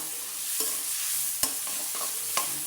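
Onions sizzle softly in a hot pan while a spatula scrapes and stirs in a few distinct strokes, while cooking a capsicum, carrot and bean khichdi.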